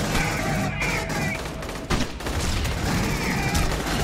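Dense, continuous gunfire from the 2013 PS3 game Aliens: Colonial Marines forms a noisy, sustained fusillade throughout, with rapid overlapping shots and a brief thud midway.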